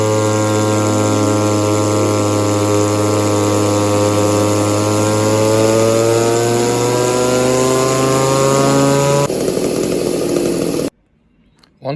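An Echo 2511 clone chainsaw with a modified muffler screams at full throttle on a dyno, a loud steady high-pitched two-stroke whine that holds for several seconds, drops slightly, then cuts off abruptly into silence.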